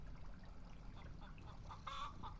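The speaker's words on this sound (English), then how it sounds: "I can hear birdies." Birds cluck and chatter softly in the game Phenexa - Walk of Life, a few short calls scattered over quiet ambient sound, with one brighter squawk near the end.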